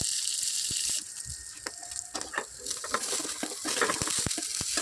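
Ivy gourds fry in hot oil in a pan with cumin and chillies, giving a steady sizzle with scattered crackles and pops and some stirring scrapes, with no talk over it.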